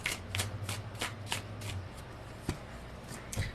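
Tarot cards shuffled close by in a run of quick papery riffles and light taps, fairly quiet, with no voice over them.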